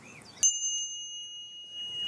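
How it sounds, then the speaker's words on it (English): A single bright bell strike marking the end of a five-minute meditation, ringing out alone with a clear, sustained tone that fades slowly over about a second and a half. "you'll hear the sound of the bell. It's going to sound like this."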